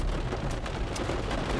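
Steady rain drumming on a car from inside the cabin, a dense continuous patter with scattered sharper drop hits, fairly loud throughout.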